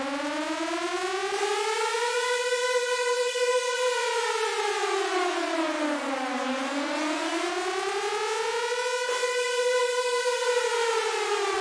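Synthesized air raid siren built in the Vital soft synth with chorus enabled, a loud sustained wail that rises and falls in slow sweeping cycles, thick with layered voices and playing alone.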